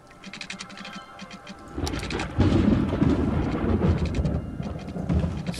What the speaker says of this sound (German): Es gewittert.